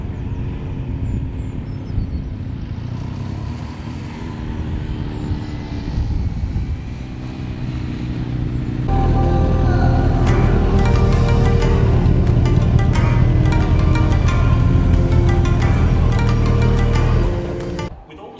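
A Suzuki Hayabusa motorcycle pulls away during a rider training day, its engine idling with a steady drone before rising to a louder, sustained revving roar close by, then cutting off abruptly.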